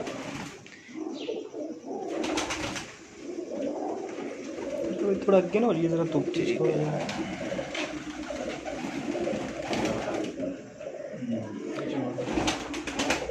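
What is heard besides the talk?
golden pigeon cooing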